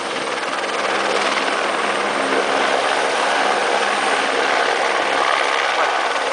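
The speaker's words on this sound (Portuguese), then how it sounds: "Helicóptero, não?" A helicopter's steady rotor drone fills the air throughout, a constant broadband whir at even loudness with no break.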